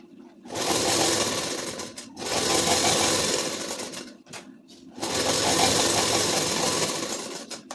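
A sewing machine stitches a size-34 ladies suit in three sustained bursts of steady, close, loud whirring, separated by brief pauses.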